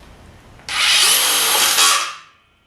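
A loud DeWalt 870 impact driver whirs steadily for about a second and a half, driving a self-drilling screw, then winds down and stops.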